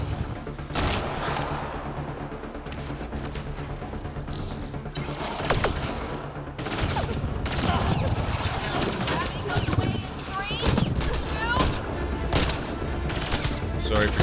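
Rapid gunfire from a sci-fi shooter game, Mass Effect Andromeda, crackles in dense bursts and volleys across the whole stretch, loud and close, with game voices and other battle sounds mixed in.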